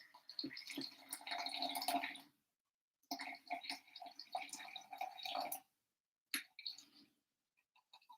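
Water is poured in short bursts into an Aeropress coffee maker, 150 grams in all, quiet and close, with brief pauses between pours and a final splash.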